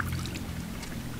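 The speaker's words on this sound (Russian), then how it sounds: "Вот туда уже попала вода из пруда," Pond water pours into a container holding koi fish, a brief close splashing gush with low gurgling, alone without talk.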